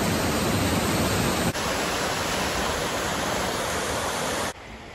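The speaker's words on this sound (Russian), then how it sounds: "Водопады" A waterfall in the mountains near Almaty roars as a steady, loud broadband rush, filling the whole clip with dense continuous water noise that eases slightly near the end.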